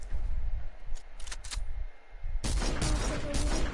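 Drum gun firing in an online shooter game, rapid bursts of automatic fire that are louder and denser in the second half, with no talk over it.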